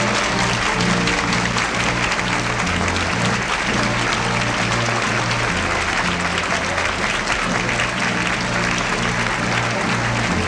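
A large crowd applauds the President of the United States at a 1975 appearance with a senator, sustained loud clapping that stays even throughout over a low steady hum, with murmured voices mixed in.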